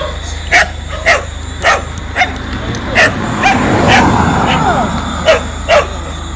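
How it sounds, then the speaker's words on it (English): A dog barks repeatedly nearby in short, sharp yips at a fairly regular rhythm, with a brief whimpering stretch in between and people talking underneath. "I'm afraid of the dog then. There's so much dog around here."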